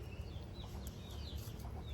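Young hens cluck softly on a farm, several faint, scattered clucks and chirps over a low rumbling background.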